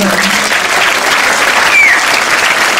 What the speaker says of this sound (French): n'hésitez pas à applaudir dès que je dis le nom